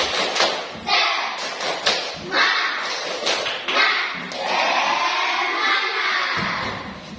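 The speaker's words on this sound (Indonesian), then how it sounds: "kita tepuk semangat dulu" A primary school class performs a rhythmic spirit clap, sharp bursts of hand claps in a patterned beat mixed with children shouting and chanting along, loud and close in a classroom.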